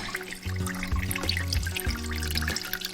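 Coolant draining out of the front heater of a school bus under conversion, with the radiator already removed: a steady, close, continuous liquid trickle and splash with no talk.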